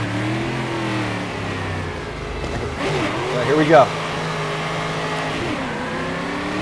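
A stock car engine in the racing game StockCar 2013 drones steadily, its pitch rising and falling as the car accelerates and shifts, with a brief louder surge midway while someone speaks a few words over it.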